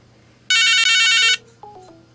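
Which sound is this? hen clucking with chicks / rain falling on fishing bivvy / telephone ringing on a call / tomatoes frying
telephone ringing on a call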